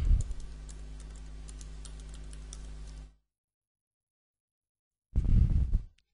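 Fast keystrokes from someone typing a password on a computer keyboard tap steadily for about three seconds over a low hum, then silence, then a short loud burst of noise.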